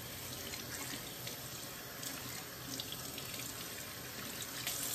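Hair extensions are rinsed under a running bathroom sink tap, giving a steady, faint stream of splashing water that stays even throughout, with no talk over it.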